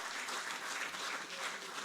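An audience at a felicitation ceremony for Asian Games medal winners applauds steadily, a dense wash of clapping heard throughout at a moderate distance.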